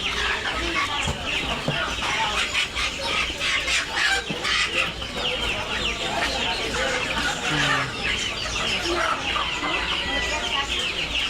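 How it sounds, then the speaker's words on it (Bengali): Native village chickens cluck and cackle busily in a close, lively jumble, with people chattering nearby in what sounds like a busy market setting. "দেশি মুরগি"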